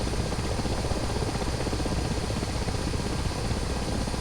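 A helicopter in a flight simulator game, its rotor and engine noise a steady, loud, unbroken drone with no talk over it.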